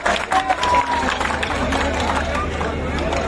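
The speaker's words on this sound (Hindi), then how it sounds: "तालियां बजाकर उनका स्वागत करें।" A crowd applauds at a Congress political rally in Tonk, Rajasthan, giving steady, dense clapping mixed with crowd noise and voices throughout.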